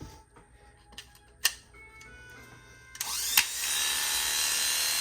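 After a few scattered clicks and taps, an electric hair clipper fitted with freshly sharpened blades switches on about halfway through and runs with a steady, close, high-pitched buzzing hum.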